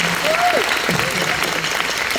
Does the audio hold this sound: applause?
yes